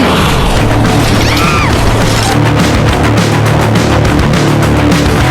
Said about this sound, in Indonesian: zombie lain muncul dan memecahkan kaca depan mobil